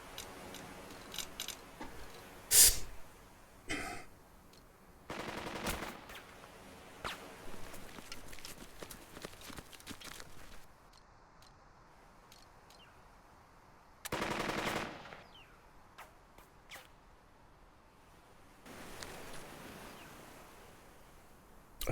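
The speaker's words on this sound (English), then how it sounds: "we need to silence those guns" Bursts of machine-gun and rifle fire from a WW2 battle in the strategy game Burden of Command: a few sharp loud volleys separated by quieter gaps with faint ticking, no talk.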